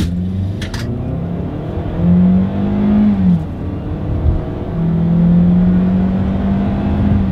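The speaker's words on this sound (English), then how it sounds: "let's see how quickly we can get our new 2022 Sportage here up to speed" A 2022 Kia Sportage accelerating hard in sport mode, engine note rising steadily then easing briefly before climbing again, close and loud with a smooth sustained drone and road noise throughout.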